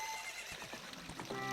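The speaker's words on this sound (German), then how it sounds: "Eponalein, du altes Pferd." Epona, the horse in the video game Zelda: Ocarina of Time, lets out a short, wavering whinny with clopping hooves beneath it, moderately loud and alone.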